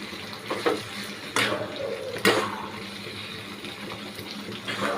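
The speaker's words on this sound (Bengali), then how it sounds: "এবার কর্নফ্লাওয়ার জলটা দিয়ে দিই" Cornflour water is poured into a pan of chilli paneer with capsicum, giving a splashing, sizzling wash of liquid in a few short bursts amid kitchen clatter.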